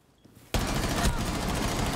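Rainbow Six Siege gunfire on the Chalet map: after a quiet half second, a sudden loud burst of rapid shots starts and keeps going as a dense, continuous volley to the end.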